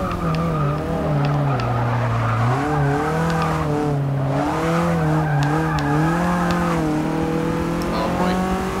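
Race car tires squeal loudly and continuously in Forza 6, the screech wavering up and down in pitch over a revving engine as the car slides through a corner, without talk.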